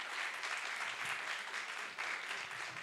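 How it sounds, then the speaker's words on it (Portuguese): An audience at a talk on reading and artificial intelligence applauds its guests, a fairly faint but steady wash of clapping lasting the whole moment. "peço a salva de palmas aos 3"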